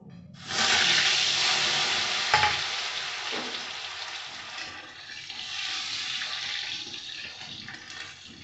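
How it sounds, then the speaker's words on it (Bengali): Potatoes frying in hot oil in a wok (kadai), giving a loud, steady sizzle that starts abruptly and continues with slight variation throughout, with no talk. "আমি এখানে আলুটা আগে ভেজে নেব।"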